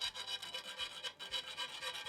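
A round file rasps back and forth over a freshly cut metal edge on a boat, rounding it off during a below-deck freezer install; steady, close scraping strokes in a quick repeating rhythm with no talk.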